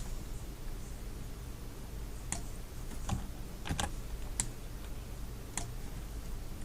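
Sparse clicks of computer keyboard keys, a shortcut being pressed while working in Photoshop, heard as a handful of separate ticks over a steady background hiss with no talking.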